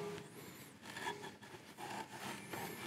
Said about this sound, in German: Dann gehe ich nochmal mit meinem Schleifvlies nach.